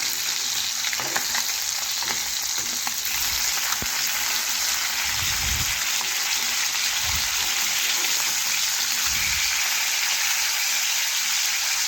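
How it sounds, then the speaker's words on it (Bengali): Fish frying in a pan hiss with a steady, dense sizzle, broken by a few soft thumps and scrapes as the pieces are turned over, no talking. "মাছগুলো এক পাশ ভাজা হয়ে গেছে, আমি আরেক পাশ আস্তে আস্তে করে উল্টে নেব।"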